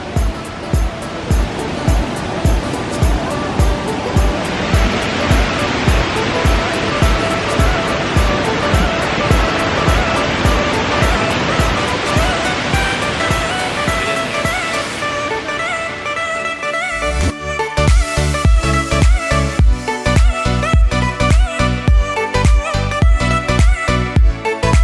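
Kuang Si Falls near Luang Prabang roars with rushing, cascading water, loud and constant throughout, swelling into a heavier crashing surge toward the end.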